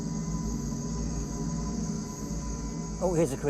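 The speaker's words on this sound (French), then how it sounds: "Voilà un eucante qui s'approche, une sorte de grillon." Steady high insect trilling of a small cricket in a Costa Rican jungle at night, a continuous chorus layered over a low ambient hum, with a voice speaking briefly near the end.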